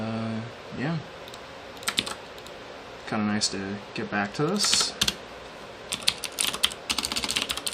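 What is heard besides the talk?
typing on a clicky computer keyboard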